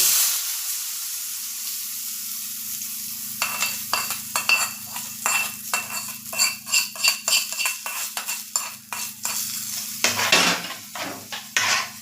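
Kitchen clatter of a pan and utensils with sizzling and stirring as hot tempering is added to tomato chutney, a burst of quick scraping strokes in the second half, no voices.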